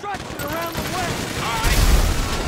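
Gunfire during Grand Theft Auto V gameplay at a roadblock near construction, loud bursts of shots and booms layered with game effects, with a voice talking briefly over the action.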